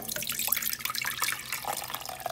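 Blended wood sorrel and water is strained for lemonade, making a quiet, uneven trickle and patter of liquid running and dripping through a strainer.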